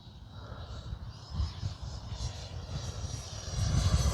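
A Freewing F-22 Raptor radio-control jet with an 80mm electric ducted fan whines steadily at about three-quarter throttle, a close, continuous rushing roar that swells slightly toward the end, with no talking.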